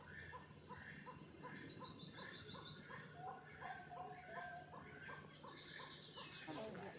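Ocellated antbirds call in a Panama forest, with repeated whistled notes and descending series over a constant insect drone and faint background chatter.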